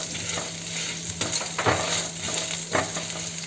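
Urad dal and tamarind dry-roasting in a pan over a low flame, giving a steady soft sizzle with a few scraping stirs, close and continuous with no talk.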